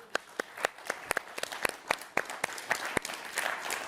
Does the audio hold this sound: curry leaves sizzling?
no